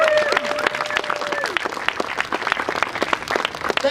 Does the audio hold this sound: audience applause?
yes